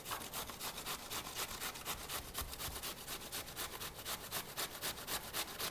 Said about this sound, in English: So we're going to grate some cucumbers.